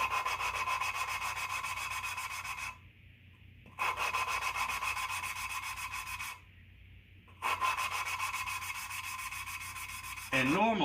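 Engine valves on Dodge 360 cylinder heads, in rough, worn shape, are lapped against their seats, producing a gritty, steady rubbing whir in three bursts separated by short pauses, with a brief squeak near the end.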